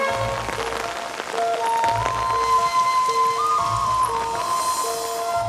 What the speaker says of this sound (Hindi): बाहर बारिश कितनी हो रही है?